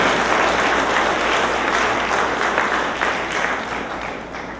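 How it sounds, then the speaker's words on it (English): A conference audience at the University of Guyana vice chancellor investiture gives a round of applause, a dense, even roar of many hands that holds steady and then gradually fades toward the end. "Let's give a round of applause to the people who came for this important conference."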